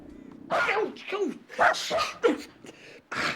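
A dog barks and yips in several short bursts amid a rural farm scene, close and fairly loud, with a voice and other talk mixed in between the barks.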